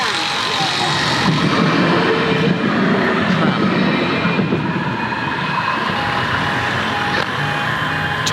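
Tram rolling past nearby with steady broadband rumble and rail hiss throughout, a faint high whine and tone across the top, constant and unbroken from start to end.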